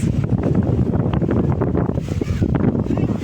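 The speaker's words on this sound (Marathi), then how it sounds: "वारा सुटलाय गाईस." Strong gusty wind buffets the microphone at Dadar Chowpatty beach in Mumbai, a loud continuous rushing roar that dominates the short clip.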